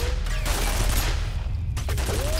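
Enemy turret fire from the shooter game F.E.A.R., a sustained rattling burst of automatic gunshots filling the short stretch, loud and continuous against a low rumbling game background.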